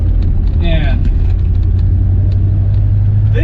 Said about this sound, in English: But go ahead and just do a quick drive in the car.